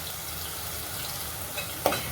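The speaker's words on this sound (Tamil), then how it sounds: "பொரியுது மசாலா நல்லா" Masala fries in a pan for sambar, a steady close sizzle with a brief clink near the end.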